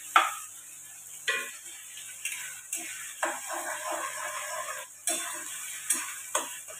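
Vegetables fry in a pan with a soft steady sizzle, punctuated by several sharp taps and scrapes of a spatula against the pan at irregular intervals.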